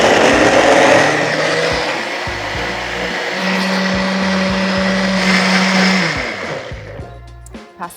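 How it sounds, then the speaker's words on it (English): A blender whirs loudly and steadily as it purees a vegan alfredo pasta sauce, a continuous motor roar that winds down and fades near the end. "Now we're gonna blend it for about 2 minutes until it's completely smooth."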